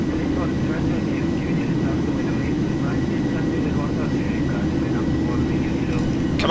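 A Boeing 737-800 jet roars steadily as it climbs after takeoff in a flight simulator. The low engine rumble is continuous and loud, and someone talks faintly over it.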